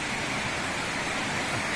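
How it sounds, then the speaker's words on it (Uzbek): A mountain stream in the Shohimardon area rushes past in a steady, close, unbroken wash of water that stays even and fairly loud throughout, with no voices over it. "Mana oqar soy, priroda, peyzaj."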